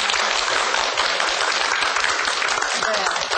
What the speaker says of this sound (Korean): 오늘 이 시간 열강을 해주신 이미선 원장님께 큰 박수 부탁드립니다.